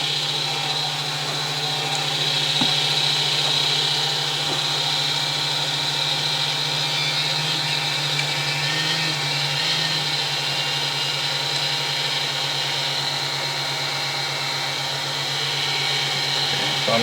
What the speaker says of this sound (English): turn the fan on. High quality fan there.